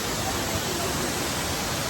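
A small waterfall at Shifen, Taiwan, gives off a broad, steady rushing roar of falling water with no breaks, fairly loud and close.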